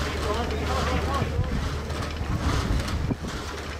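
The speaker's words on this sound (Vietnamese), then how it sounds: "ngoài khơi gió và sóng làm cho tàu lắc lư không ổn định" Strong wind and sea rush over a sailing training ship offshore, the Le Quy Don 286, a loud, continuous roar of gusts and wash with no break.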